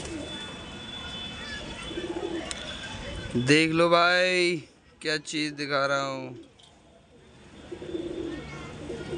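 Pigeons coo softly and repeatedly in the background while someone speaks briefly in the middle, with quieter cooing continuing before and after.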